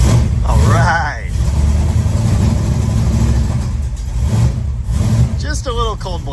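The 440 V8 of a 1970 Dodge Challenger runs at a loud, steady rumble after electrical harness work, with a brief rev and voices talking over it near the start and end.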